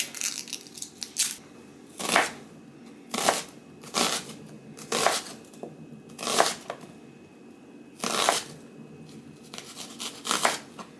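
A knife slices through fresh vegetables for a cheap vegan meal, producing crisp crunching cuts close by. The cuts come in separate bursts about a second apart, with quiet pauses between them.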